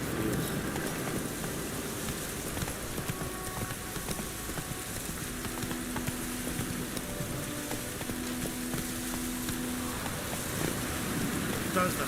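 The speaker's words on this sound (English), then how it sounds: "Let it rain." Steady rain pours across open fields in The Witcher 3 video game, a constant broadband hiss with patter throughout, while hoofbeats of a trotting horse and low tonal game sounds sit underneath.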